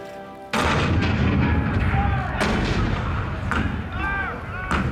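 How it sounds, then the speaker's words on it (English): A Fort Sumter cannon barrage in a theater show: a sudden heavy boom opens into a sustained rumbling roar, followed by several more sharp booming shots, with voices and a swelling musical score under the blasts. "The cannon spoke for war, bitter, violent, and devastating."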